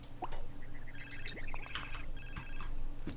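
A telephone rings in The Sims 4 video game with a light, repeated electronic trill, faint and mixed with small plinking in-game sounds.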